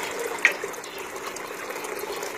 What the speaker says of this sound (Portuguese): Olha que linda cascata aí, ó.